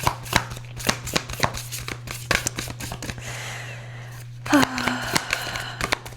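Oversized tarot cards are shuffled by hand up close, a quick series of sharp riffling snaps and soft slides with brief pauses, under a low steady hum.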